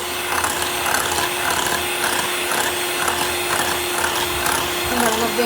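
Electric mixer beating eggs for Tuticorin-style macaroons, a loud steady motorized whir with a constant hum running throughout, close up and continuous with slight rhythmic fluctuation.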